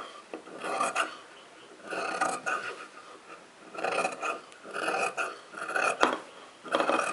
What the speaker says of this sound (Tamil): அந்த கிளாத்தை வந்து எக்ஸ்ட்ரா கிளாத்தையெல்லாம் நீங்கள் கட் பண்ணி விட்டுருங்க.